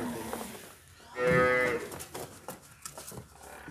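A purebred Nili-Ravi milking buffalo lets out a single deep, fairly loud moo of about half a second near the middle, over low outdoor background noise and faint scattered knocks.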